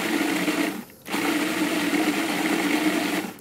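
A Robot Coupe food processor grinds a condiment in a professional kitchen with a loud steady motor whir, briefly cut off for a pulse before running again, heard close with no talk.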